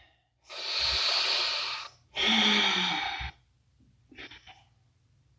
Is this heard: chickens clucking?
no